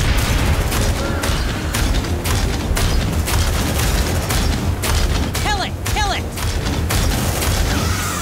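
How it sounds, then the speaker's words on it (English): Repeated booming blasts and bursts of gunfire from grenade shots and explosions in the sci-fi squad combat game Aliens Dark Descent, loud and dense throughout, with sharp whistling accents partway through. "let's shoot a grenade"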